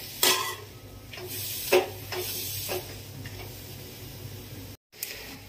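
A spoon stirs a pumpkin mixture in a cooking pan, giving scraping knocks and clinks over a low sizzle, close and intermittent, with a brief drop to silence near the end.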